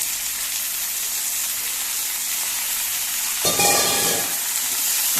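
Bitter gourd added to onion frying in oil in a pan for a Goan-style bhaji, a steady close hiss that bursts louder and more crackly as the vegetable goes in, then settles.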